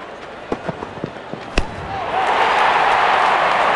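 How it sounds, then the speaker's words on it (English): In the video game Real Cricket 2022, a cricket bat strikes the ball for a six. A few soft knocks come first, then one sharp crack, followed by a swelling crowd roar. "Wonderful sound of the bat, and that's a six."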